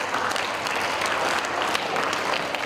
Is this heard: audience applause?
yes